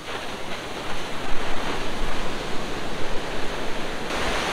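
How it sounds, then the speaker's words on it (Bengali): Ocean surf rolls onto Puri beach on an early morning, a steady, loud, broad wash of breaking waves with no pauses and no voices. "আর ঢেউগুলো অসাধারণ।"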